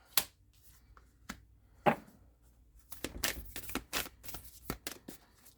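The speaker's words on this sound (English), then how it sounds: "Otherwise, I'm just going to shuffle until it feels done." Tarot cards are shuffled by hand at close range, with soft riffling bursts and sharp taps, sparse at first and then quicker and denser, fairly faint.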